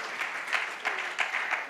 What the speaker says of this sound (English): May you clap for her.